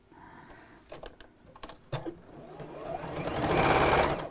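A sewing machine stitches in short irregular bursts, then settles into a longer, louder continuous whirring run near the end, with no talk over it.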